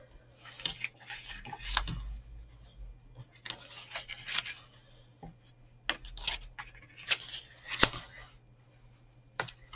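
Scissors snip through card while trimming a shamrock sweetie box, a few crisp close cuts in short bursts with soft paper handling between, in a quiet room.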